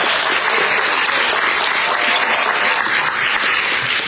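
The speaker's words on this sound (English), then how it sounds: "Can we have a round of applause for Cindy Root for pulling this all together" Dense, steady applause from a variety-show audience celebrating an 85th anniversary, loud and sustained throughout with no break.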